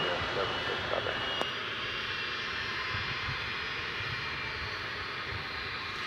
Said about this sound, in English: Here's that 757 that came in from Tampa of 1999 vintage.